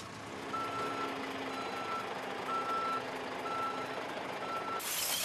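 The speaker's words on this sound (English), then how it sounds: "When the recycling truck arrives in our yard at Clermont" Recycling truck arriving at a depot yard in Clermont, a diesel engine idling loudly while a reversing alarm beeps in an even, repeating rhythm, five evenly spaced tones.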